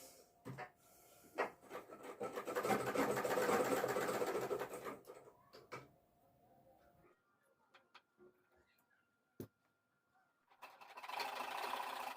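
A sewing machine runs in a steady whirring burst for a couple of seconds, stops, then starts up again near the end, with faint handling clicks in between and some quiet talk.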